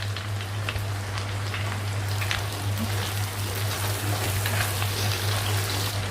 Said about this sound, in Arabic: هستنى برضو اما الفشه تحمر شويه